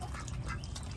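Ducks quack faintly at a farm where duck eggs are being collected, short scattered calls over a noisy outdoor background.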